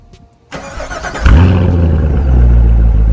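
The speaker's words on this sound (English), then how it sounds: "Before I take you inside the car, let me give you a quick startup." A car's engine cranks and catches, then settles into a loud, steady idle close by, with no voices over it.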